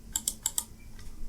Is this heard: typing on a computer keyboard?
yes